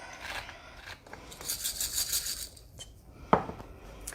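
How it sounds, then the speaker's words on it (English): Lemon zest is scraped out of a metal zester in short rasping strokes, close and fairly quiet, followed by a sharp tap. "if you want to scrape out some of the lemon zest from your zester"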